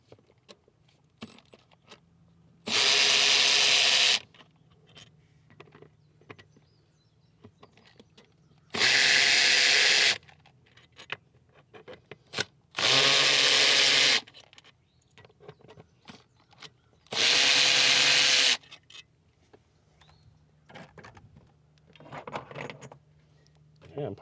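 A power tool spins out bolts from the throttle body of a 2015 Subaru Outback, heard as four loud buzzing bursts about a second long, spread out between quieter clinks and handling of tools.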